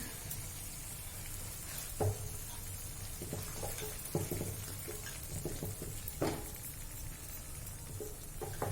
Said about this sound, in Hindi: फ्राइड ऑनियन और दही, इसे भून लेंगे हम।